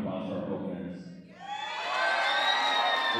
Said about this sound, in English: can we please get a big round of applause for our openers?